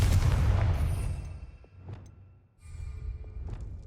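Confringo explosive spell cast in the video game Hogwarts Legacy, a loud booming blast that decays over a second or so, followed by a second, softer rumbling burst, no talking.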